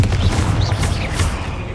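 A Confringo fire spell cast in the Hogwarts Legacy game sets off a dense, loud burst of explosive, crackling blasts with heavy low rumble that lasts the whole moment.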